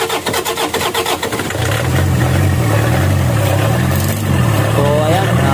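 A Toyota Fortuner with a hard-starting fault and a tampered injector cranks briefly, then catches and settles into a loud, steady engine run close by. A person talks over it.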